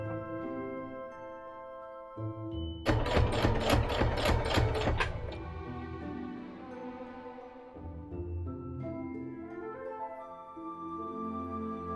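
A sewing machine stitching cosplay fabric, a loud rapid mechanical rattle for about two seconds, set amid a quieter background hum, with no talk.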